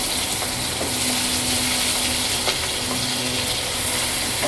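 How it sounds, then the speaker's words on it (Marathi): Chopped onion dropped into hot oil with cumin seeds for rajma, giving a steady, even sizzle and crackle that continues without pause and without talk. "तर आता इथे जिरे टाकले, आता कांदा टाकते त्याच्यात"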